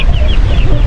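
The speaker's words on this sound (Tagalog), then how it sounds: "Sisiyo ng pato, manok." Chickens clucking loudly at close range on a rural property where ducks and hens are kept, a dense burst of overlapping clucks with no talking.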